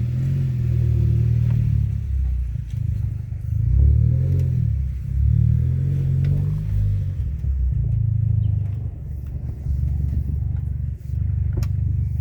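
An Audi Avant station wagon fitted with a new DSG7 DQ200 clutch drives along with a steady low engine rumble and road noise, engaging smoothly with gentle rises and falls in pitch.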